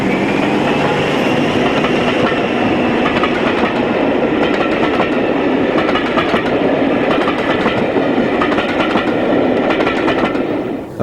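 A Class 55 Deltic diesel locomotive hauls a train past Gilberdike, its loud engine roar sustained throughout with steady rail clatter, close and continuous, with no voices.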